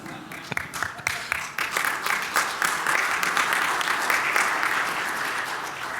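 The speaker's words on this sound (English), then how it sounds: "I want to give another round of applause and thank the fantastic panel." Sustained audience applause fills a conference hall after a panel session on microreactor deployment, a dense wash of many hands clapping that builds quickly and holds steady without talk.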